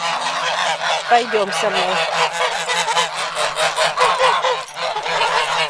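Loud, continuous honking from a flock of geese close by, with a person speaking briefly under the din.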